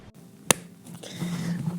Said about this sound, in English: So I'm gonna have you clap.